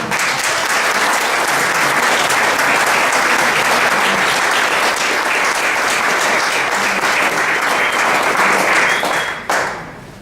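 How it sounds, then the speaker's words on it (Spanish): Loud, sustained applause from an audience welcoming a guest speaker at a lecture on bonsai art in Cholula, a dense steady roar of many hands lasting nearly ten seconds before cutting off abruptly. "Vamos a recibirle con un fuerte aplauso."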